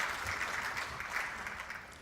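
An audience at a Korean national sommelier competition gives a short burst of dense, steady applause from a seated hall crowd, fading slightly toward the end.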